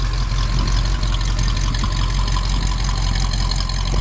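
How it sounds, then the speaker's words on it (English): A 1958 Ford F100 pickup's dual exhaust idles close by in a steady, deep rumble, low and continuous with a slight throb, loud and unbroken. "that's the back with this nice dual exhaust just kind of rumbling right along"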